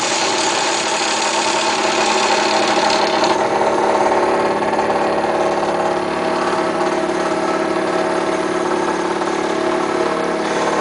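A CNC sign cutter works out the letter B with a continuous loud mechanical drone and whine, steady and close throughout with a slight change in tone partway.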